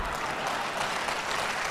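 An audience at a Hindi kavi sammelan poetry recital claps in a dense, even burst of applause that holds steady and fairly loud throughout, with no voices over it.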